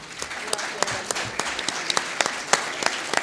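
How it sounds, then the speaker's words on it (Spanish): Moderate audience applause at an open institutional event, a scattered patter of individual claps with a few sharper accents, fairly close and lasting about three seconds. "Le pido un aplauso para Catalina."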